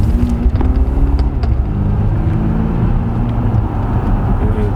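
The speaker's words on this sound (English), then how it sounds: "Obviously, now we can hear the engine, but it's still pretty quiet." A 2016 Volvo XC90 T8 plug-in hybrid engine runs quietly, a low steady hum with a smooth droning tone and slight swells, heard from inside the vehicle without talk.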